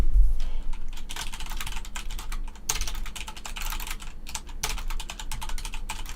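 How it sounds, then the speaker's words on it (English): Rapid, steady clicking of keys on a mechanical computer keyboard, close and fairly loud, with continuous clacking strokes and no speech. "sorry for my keyboard clickety-clack. It's a mechanical keyboard."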